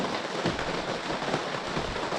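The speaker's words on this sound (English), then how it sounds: "Okay, so it started raining." Steady broadband rain pattering on a surface during a rainy day, dense and continuous with no clear gaps, fairly loud and close with no voices.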